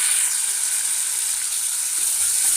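Chopped tomato goes into a pan of fried onion and garlic for an ivy gourd and chana dal stir-fry, giving a steady, close hiss of frying oil that holds level for a few seconds.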